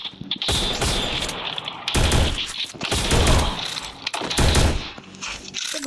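Rapid bursts of video game gunfire from a Woodpecker gun, several loud, close volleys separated by short pauses, with no talking.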